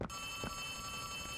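A telephone rings in the horror game Poppy Playtime Chapter 3, a faint steady electronic ring with a sustained tone over a quiet room.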